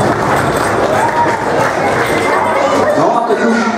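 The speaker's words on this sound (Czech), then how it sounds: "potlesk ještě jednou pro ně" Crowd applause at a Šumava classic league award ceremony, a steady dense wash of clapping for the second-place Dolany team, with some crowd noise mixed in throughout.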